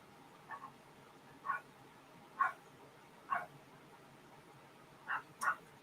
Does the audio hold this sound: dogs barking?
yes